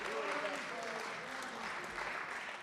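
Audience applauding after a klezmer band's spirited performance at an evening of Jewish music, a dense steady wash of clapping from a full hall with some voices mixed in.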